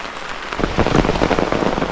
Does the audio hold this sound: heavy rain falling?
yes